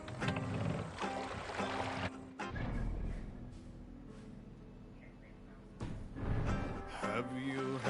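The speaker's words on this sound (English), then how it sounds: "Need to row our way out." Oars of a Viking longship pull through the water in Assassin's Creed Valhalla, a steady rowing wash with splashes, louder near the start and end, under a layered game soundscape.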